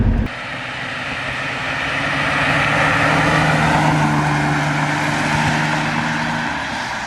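A €350 Volvo 240 drives toward the highway, its engine drone and road noise building steadily inside the cabin, a low steady hum rising then easing slightly near the end, no talking.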